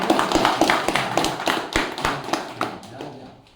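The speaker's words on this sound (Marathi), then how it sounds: "सर्वांनी जोरात टाळ्या" A school event crowd at an educational supplies distribution ceremony claps loudly, a dense run of close sharp hand claps that fades away toward the end.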